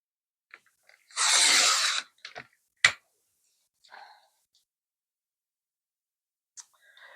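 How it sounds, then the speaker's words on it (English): A paper trimmer slices a full 12-inch sheet in one sustained rasping swipe lasting about a second, then gives a sharp click and a few faint taps, close and with no talking. "Now I'm going to cut the full 12 inches so that the piece remaining will be a really nice piece."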